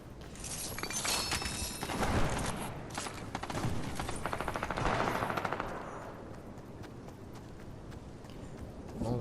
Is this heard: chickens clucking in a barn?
no